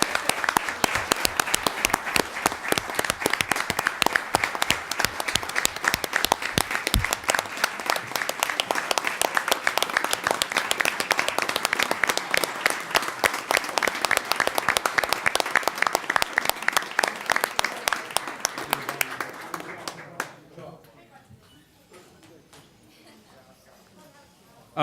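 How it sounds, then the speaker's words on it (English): A council meeting audience gives athletes one more round of applause, steady sustained clapping for about twenty seconds before it tapers off and the room falls quiet. "So one more round of applause."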